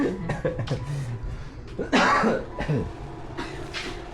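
Several coughs break up a stretch of quiet speech, with one harsher, throat-clearing burst in the middle. The sound is close and moderately loud.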